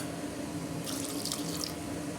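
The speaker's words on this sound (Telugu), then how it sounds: "ఇంకా కొంచెం వాటర్ వేసుకుందాము" Water splashes into a pot of potatoes, a short close pour that rises partway through and fades again over low kitchen background noise.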